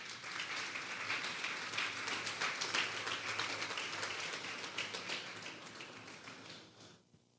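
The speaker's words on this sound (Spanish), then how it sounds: "Vamos a darle un fuerte aplauso al Señor." Congregation clapping in a church service, a dense continuous wash of many hands that holds steady for several seconds and then thins out near the end.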